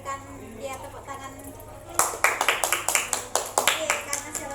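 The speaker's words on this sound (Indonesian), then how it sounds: "berikan dia tepuk tangan" A classroom of students claps for a pupil who answered correctly, starting abruptly as a burst of many hands in a quick uneven rhythm, loud and close, following a teacher's speech.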